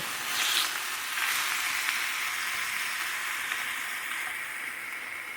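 Veal sears in a skillet on the stove's highest heat, a constant, fairly loud hissing sizzle that swells briefly near the start and then settles to a steady wash.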